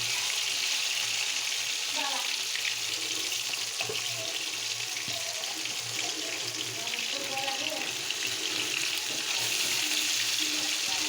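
Kumula fish frying in a pan, a steady, loud, dense sizzle that carries unbroken throughout, with faint clinks and a voice murmuring in the background.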